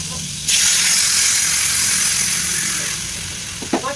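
A pot of mixed vegetable curry with pumpkin, pointed gourd and papaya cooking on the stove gives off a loud, steady hiss and sizzle that runs on unbroken and eases slightly toward the end, with a small clink at the close.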